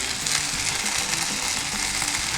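Fried potatoes with mushrooms sizzle in a pan while being stirred, a dense steady crackle with faint scraping and shuffling underneath, close and even throughout with no talking.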